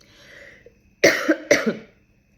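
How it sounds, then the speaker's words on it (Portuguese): Two hoarse coughs in quick succession, close and fairly loud, after a stretch of near quiet. "Peço desculpa pelas tosse."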